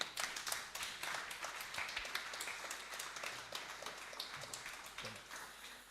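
Church congregation clapping and applauding in praise, a dense wash of many hands forming steady applause throughout, fairly distant and reverberant with no clear voices.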